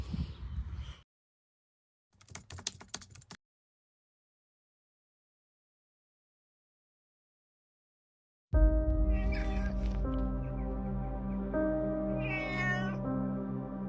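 A 19-year-old cat meowing indoors: a short cry, a brief rustle, a long silence, then a sustained loud stretch where the cat meows repeatedly over a steady humming background.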